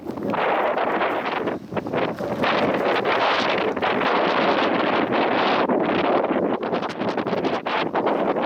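Strong summer wind blows steadily outdoors in Tiilikkajärvi National Park, Finland, roaring and buffeting loudly and continuously, with no voices heard.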